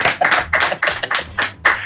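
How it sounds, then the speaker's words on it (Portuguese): Hands clap in a quick, steady burst of about seven sharp claps, close and loud, with no talking over them. "Palmas para o Gabriel, meu brother."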